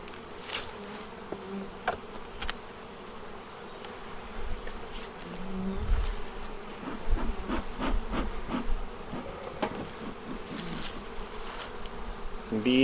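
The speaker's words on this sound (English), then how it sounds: "Some bees up in the top." Honeybees buzz steadily from an opened hive in the Ozarks, a continuous close insect drone with occasional louder passes of individual bees and faint handling knocks, without speech.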